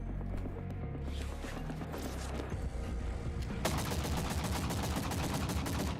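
Rapid pistol fire in the video game The Forever Winter, with a fast run of sharp shots that becomes a dense, continuous rattle of close gunfire in the second half.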